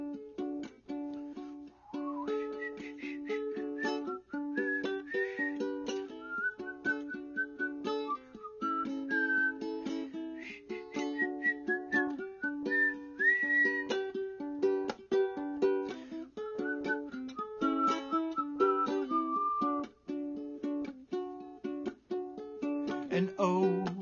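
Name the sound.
person whistling a song's guitar solo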